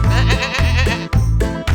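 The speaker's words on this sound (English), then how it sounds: "What sound does a goat make?" Goat bleating loudly and close, a series of about four wavering, nasal bleats in quick succession with brief breaks between them, no talk.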